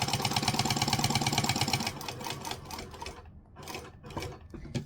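A sewing machine runs steadily while top stitching along a fabric edge, a dense rapid mechanical whir for the first two seconds, then breaking into uneven softer bursts and pauses.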